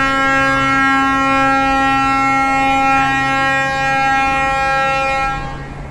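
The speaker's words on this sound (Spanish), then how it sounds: "como pueden escuchar, esa es la alarma de que van a encender la piscina de olas." A warning alarm at a water park signals that the wave pool machine is about to start, a loud, steady, sustained siren-like tone holding for several seconds before fading slightly at the end.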